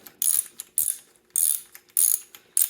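BMX stem bolts are tightened with a ratchet wrench, making bursts of quick clicking from the pawl, about five short ratcheting strokes in a regular rhythm, crisp and close, with quiet gaps between them.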